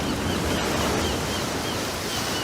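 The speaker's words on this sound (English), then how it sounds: "the waves carried his body to the shore" Ocean waves wash onto the shore as a steady, dense roar of surf and churning water, loud and continuous with no pauses.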